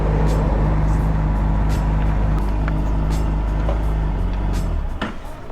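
A Honda CBR600RR 600cc motorcycle engine idles with a loud, steady rumble close by, then cuts out near the end as it stalls, leaving a few faint clicks and rustles.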